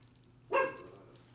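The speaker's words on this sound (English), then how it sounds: "Please excuse my dog." A single short dog bark rings out at moderate loudness over a faint steady hum, then fades, with no one talking.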